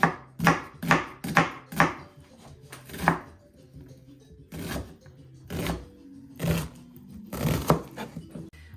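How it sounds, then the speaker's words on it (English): Knife chopping a sweet Vidalia onion on a big cutting board, a quick run of sharp, close thuds followed by slower, spaced single cuts, with no talking. "I'm gonna cut up some onion here."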